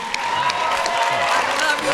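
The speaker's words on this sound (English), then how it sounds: "give a huge round of applause, everybody." Audience applause and cheering fill a convention panel hall, a steady dense wash of clapping with occasional whoops, sustained throughout.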